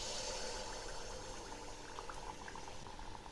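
Malpua batter frying in hot oil, a steady, dense bubbling sizzle that fills the whole clip at an even, close level, with no voices.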